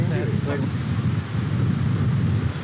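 Wind gusts across an outdoor golf course during a tournament round, a steady low roar buffeting the microphone, with a voice briefly heard at the start.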